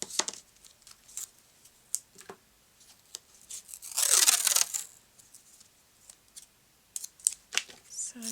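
Tape is pulled and laid down on a scrapbook page: a short crackling, ripping burst in the middle, set among scattered small taps and rustles at close range, with a person talking quietly between them.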